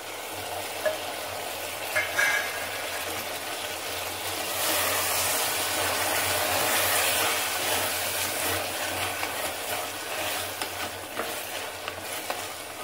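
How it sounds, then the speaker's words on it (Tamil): Tomatoes sauté in a pan for a spicy Madurai chicken curry, giving a steady frying sizzle with occasional stirring scrapes and clinks, swelling louder midway. "நல்லா வதங்கட்டும் இப்போ நம்ம தக்காளி போட்டுடலாம்"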